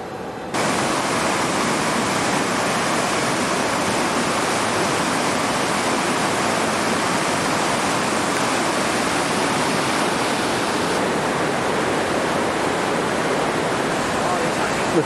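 A river in Switzerland flows in a continuous, loud broadband rush that holds steady from start to finish, with no voices.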